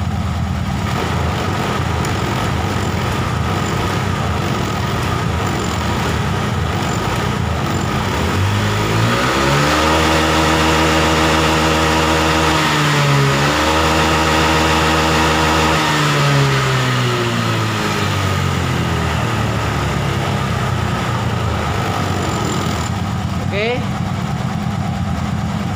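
A Honda Vario 150 scooter with a TPS throttle sensor fault is started and revved, the engine climbing and falling in loud swells over a steady idle while someone talks over it.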